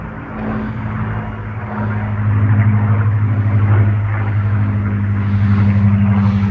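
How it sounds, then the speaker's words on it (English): A Supermarine Spitfire flying overhead in the English countryside, its deep piston-engine drone rumbling steadily and swelling slightly as it passes, heard alone outdoors. "Dulcet tones of the Grace Spitfire, which is just flying overhead"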